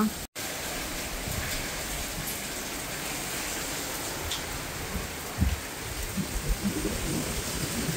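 Heavy rain pours steadily in a dense, even roar, with a brief dropout near the start and a few louder splashes later.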